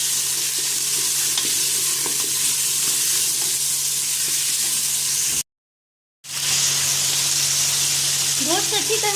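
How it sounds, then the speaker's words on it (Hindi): Beef fries for haleem in a pan, a loud continuous close sizzle with stirring scrapes, cut by a brief silent gap midway before the hiss resumes, no voices. "गोश्त अच्छी तरह से फ्राई हो चुका है।"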